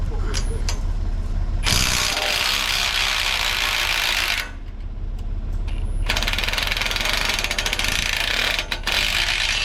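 A ratchet wrench works bolts loose on a deer stand outdoors, its rapid clicking pawl running in long loud bursts with a brief pause midway, close by.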